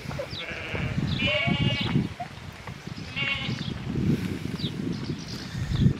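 Sheep bleat outdoors, several clear calls spaced across a few seconds over rustling and footstep noise at a farm, with a flock being sheared nearby.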